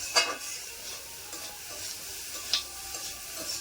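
Spices being sautéed for a soybean curry, a soft sizzle with a couple of spoon scrapes against the pan, fairly quiet and alone.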